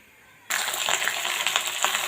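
Cut cauliflower pieces hit hot oil in a pan and burst into a loud, steady sizzle that starts abruptly and continues with crackling pops, close and alone.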